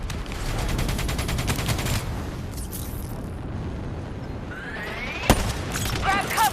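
Incoming missiles and gunfire erupt in Call of Duty Black Ops 3: dense rattling bursts of automatic fire, rumbling explosions, a sharp blast, and a rising whine of projectiles.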